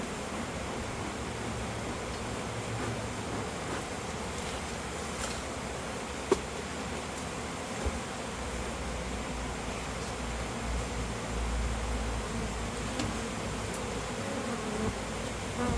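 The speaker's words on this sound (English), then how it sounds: "There's a lot of bees hanging out on that side." Honeybees buzz continuously at a hive during a hive inspection, a soft, steady hum of many insects with a few faint knocks in the background.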